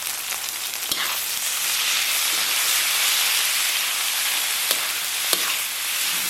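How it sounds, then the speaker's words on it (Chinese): Chicken and shiitake mushrooms stir-fry in hot oil with scallions in a wok, a loud, steady sizzling hiss broken by a few sharp clicks of the spatula, close and continuous with no voices. "简单煸炒出香气"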